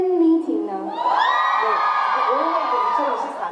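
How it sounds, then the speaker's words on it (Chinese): Fans at a celebrity fan event in Taiwan scream and cheer together, a loud, sustained wall of high-pitched shrieks and whoops from a close crowd, rising after a brief opening yell. "现场再度尖叫声四起"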